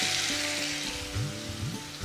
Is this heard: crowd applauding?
no